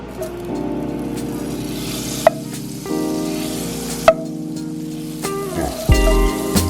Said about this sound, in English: So I got the Kerry Gold butter that I use and the roasted garlic. Put this in the pan, a hot pan